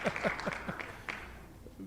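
A small group clapping for a friend at home, several quick claps at the start that fade out, with low voices murmuring near the end.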